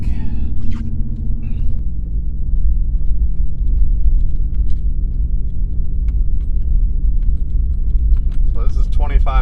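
Ram 1500 pickup with a Borla S-Type exhaust cruising at about 25 mph in fifth gear near 1200 RPM, giving a steady low rumbling drone throughout, with a brief voice near the start and some light rattling over the hum.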